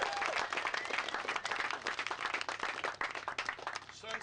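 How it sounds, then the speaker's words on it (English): A big round of applause from a crowd at a racing riders' meeting, many hands clapping in an irregular, lively burst that continues for several seconds at moderate distance, with a few faint voices mixed in. "Big round of applause."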